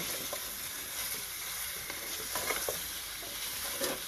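Pork chops with spinach fry in a pot with a soft, steady sizzle and occasional stirring clicks and pops, close and fairly quiet, no voices.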